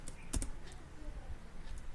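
Computer keyboard typing a login name into an admin panel, a few quick faint keystroke clicks close by, then quiet.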